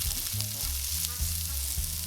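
Chili, paprika and four-spice mix fry in a pan with a steady, close sizzle, and low stirring thumps sound at a loose rhythm beneath the hiss.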